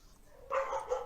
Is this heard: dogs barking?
yes